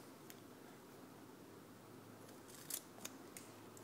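Scissors snip through a strip of adhesive tape, a brief crisp cut or two near the end, faint and close over a steady low background hum.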